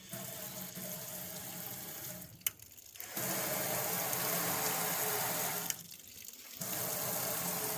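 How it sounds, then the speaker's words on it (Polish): Water streams from a flexible faucet spout into a kitchen sink, a steady close rushing flow that cuts off briefly twice, with a small click, before resuming. "bardzo fajna wylewka, elastyczna i zobaczcie jak fajnie leci woda"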